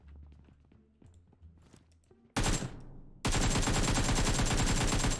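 Gunfire in the mobile battle-royale game PUBG Mobile: quiet footsteps and movement first, then sudden loud bursts of rapid automatic fire that continue dense and close to the end.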